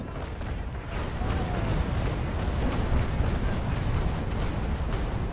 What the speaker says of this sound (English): this was, I must say, a rather good broadside